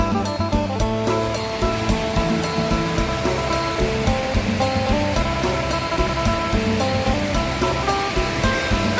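A steady, full roar of falling water from Mae Pang Waterfall in Pai, Thailand, rushes continuously, broad and loud, with no voices.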